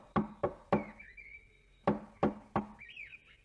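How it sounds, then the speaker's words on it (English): Knuckles rap on a wooden door in two groups of three sharp knocks separated by a pause, close and crisp, with faint bird chirps between them. "she knocked a little louder"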